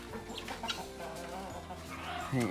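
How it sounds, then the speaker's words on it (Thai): Guinea fowl on a Thai farm clucking and calling near their pen, a steady chatter of bird cries over a continuous low background hum, with a louder burst near the end. "เดี๋ยวไปดูไก่ต๊อกกันสักหน่อยว่าที่อยู่ตรงไหนครับ"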